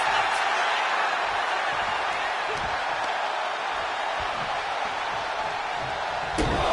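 A broad, steady roar from an arena crowd in the WWE 2K25 wrestling video game on PS5, continuous and dense throughout, with faint impact thuds underneath.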